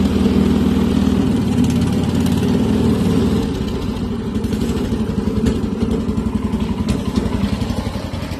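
A homemade mini tractor built around a VAZ engine, idling loud and close with a steady low chugging throb and a faint mechanical clatter over it, with no speech.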